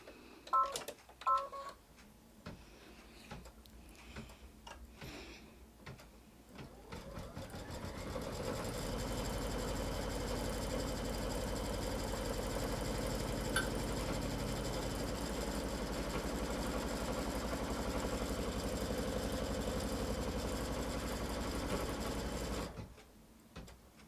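An embroidery machine stitches an in-the-hoop quilt block, a steady mechanical whir with rapid needle rhythm that runs continuously and evenly for most of the stretch after a few scattered handling clicks at the start, then stops abruptly near the end.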